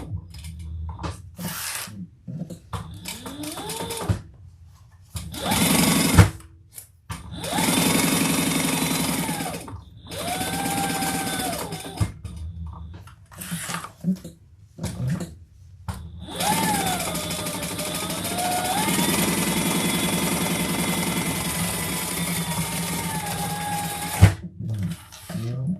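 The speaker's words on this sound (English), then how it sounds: "we're going to stitch around the sides" A sewing machine runs in bursts while stitching around the sides of a harmonica hobo bag, with several short runs and a long steady run near the end, separated by pauses.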